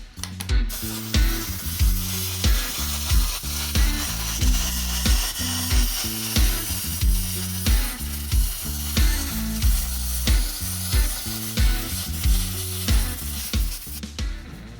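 A torch heats metal on a rear-end ear reinforcement kit for a Cadillac, giving off a steady close hiss and sizzle with a rhythmic pulsing pattern throughout, and no one talking.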